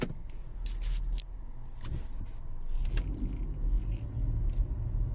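A car driving along a road, with steady low engine and road rumble throughout and a few faint clicks and rattles from inside the cabin.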